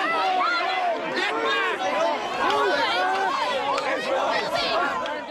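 A dense protest crowd surges and shouts at close range, a continuous roar of overlapping voices, yells and cries that stays loud throughout, with no single voice standing out.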